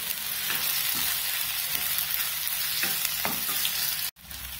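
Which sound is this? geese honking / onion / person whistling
onion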